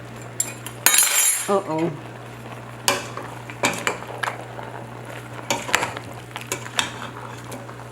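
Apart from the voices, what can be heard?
stirring goat meat with salt and black pepper in pot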